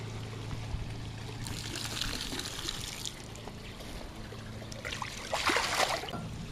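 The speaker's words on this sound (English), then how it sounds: "Pour it right into the pool here." Pool chemical being poured into a backyard swimming pool near a return jet: a steady liquid splash and trickle against a water hum, with a stronger gush of pouring near the end, no talking.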